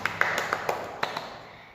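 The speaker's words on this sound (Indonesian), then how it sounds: "Tepuk tangan dong untuk Tuhan." Children at a Sunday school service clap together: a short run of about eight light, uneven claps, fairly close, that fades out within two seconds.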